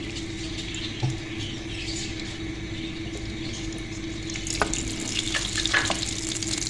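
Butter with a tablespoon of oil sizzling in a pan for white sauce, a steady soft frying hiss with a couple of faint utensil knocks and no talking.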